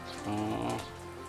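A rain-simulating sprinkler runs at a rice-field crab farm. Water hisses and sprays in a steady wash at moderate distance, swelling briefly in the middle.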